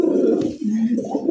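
Pigeon cooing from a fancy Raj Golla pigeon for sale, a short soft low-pitched coo heard close and continuous, alone without talk.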